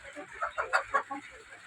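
A flock of more than fifty hens clucking nearby, a quick run of short, bright clucks rising and falling.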